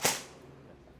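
A single sharp crack from an airsoft gun fired on semi-auto, close and loud, decaying quickly into quiet room tone.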